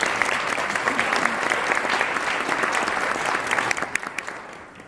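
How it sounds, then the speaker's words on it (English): An audience at a diversity and inclusion gala applauds. Steady, dense clapping fills the whole stretch and tapers slightly toward the end. "Please give them a round of applause."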